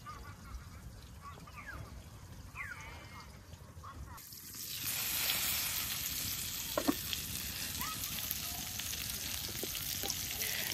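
Eggplant frying in fish oil in a village kitchen, a soft sizzle that swells louder and brighter partway through as the pan crackles steadily, with faint background sounds around it.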